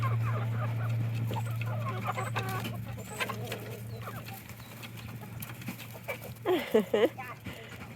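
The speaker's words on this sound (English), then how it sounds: "Good morning, chickens." Chickens cluck and chatter nearby in the morning, with a louder rooster-like call near the end, over a low steady hum and light background noise.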